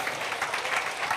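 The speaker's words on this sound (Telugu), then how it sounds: "మరొకసారి చప్పట్లు కొట్టి దేవునికి స్తోత్రం" A congregation claps together at a church prayer meeting of lamentation and praise, giving a dense, steady burst of applause that fills the room with no talking.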